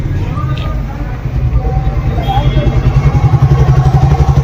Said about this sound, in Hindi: एक स्कूटी आएगा अभी जो अंदर घुसेगा